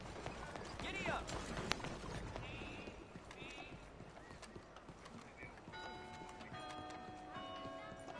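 Horse hooves clip-clopping at a run in a video game, fairly quiet and steady under someone talking, with music-like tones toward the end.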